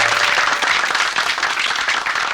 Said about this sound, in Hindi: आपने बड़ी जोरदार ताली बजाई